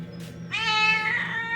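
A hungry stray cat meows once, loud and close, with a drawn-out, wavering plaintive cry over a faint background hum.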